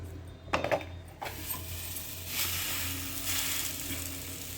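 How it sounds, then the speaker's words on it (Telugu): A cucumber roti is set down on a hot pan with a few knocks and a rustle of foil. A gentle, steady sizzle follows and carries on alone. "ఇలా రేకుపై వేసుకున్న దోసకాయ రొట్టెని పెనంపై వేసుకోవాలి."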